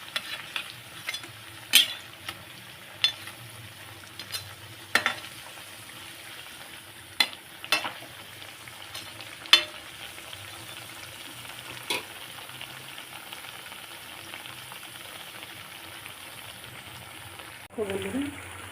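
Food frying in oil in a pan after being turned over. A soft steady sizzle sits under a string of sharp spatula taps and scrapes, close and quiet, with a clatter near the end.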